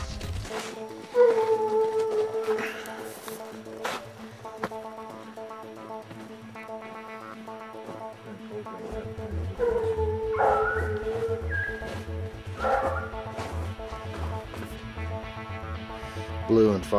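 Hunting dogs on a cougar hunt bark intermittently in the distance, sharp yelps scattered through a continuous hum of outdoor background noise.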